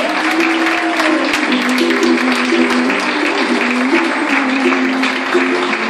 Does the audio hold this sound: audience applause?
yes